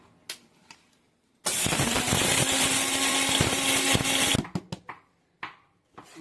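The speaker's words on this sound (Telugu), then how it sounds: "సో నేనైతే మిక్సీ పట్టేస్తున్నాను" A kitchen mixer grinder whirs loudly for about three seconds while grinding roasted garam masala spices, with brief clicks and knocks before and after the burst.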